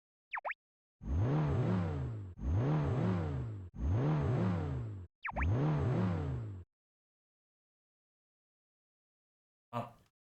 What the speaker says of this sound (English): Have a listen to this car.